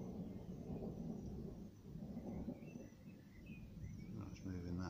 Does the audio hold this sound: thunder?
yes